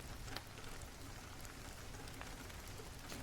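Steady rain falls as a continuous, even wash of drops on a surface, soft and unbroken throughout, with no voice over it, as a backdrop for bedtime reading.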